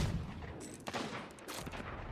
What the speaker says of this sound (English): I think they're shooting at us.